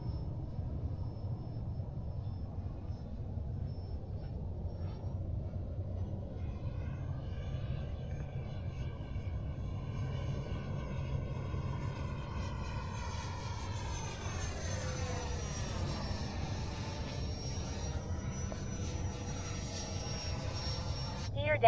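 A Freewing F-16 90mm electric ducted fan RC jet flying at Fritz Field with a continuous whining rush that sweeps in pitch as it passes, rising and falling in a clear Doppler swoop over steady outdoor wind noise.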